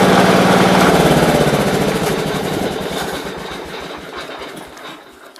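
A truck engine with a faulty transmission runs loudly up close, its heavy chugging rumble fading gradually as it slows into an uneven, knocking idle, with no voices.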